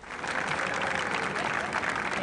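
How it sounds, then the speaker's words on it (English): An audience at a school arts celebration applauds its athletes, a steady dense wash of many clapping hands sustained through the short burst, with faint crowd noise. "Let's give all of our athletes a round of applause"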